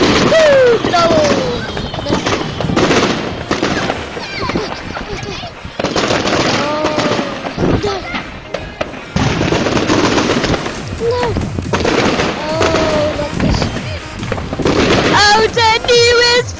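Fireworks bang on New Year's Eve 2011-2012 in a dense, loud barrage of cracks and pops that runs throughout, with people shouting and talking over them and whistling rockets near the end.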